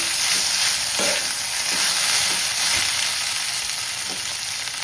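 Potatoes cook in a pan over a low flame for Gujarati bataka no sambharo, giving a steady, close frying sizzle with a few soft stirring knocks throughout and no talk.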